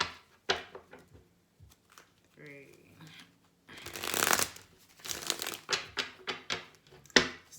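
Tarot cards are shuffled in a long riffling burst followed by a series of sharp taps and flicks, close up, with a short vocal sound earlier.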